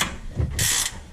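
A hand ratchet tightens screws on a Jeep JK fender flare, giving a short burst of close mechanical clicking and grinding, with one brighter rasping stroke.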